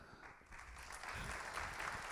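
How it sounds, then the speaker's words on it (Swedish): Audience applauding for a band at the Funkisfestival in Kalmar, faint at first and then swelling into steady, even clapping from a crowd, with no voices over it. "fortsätt klappa för bandet!"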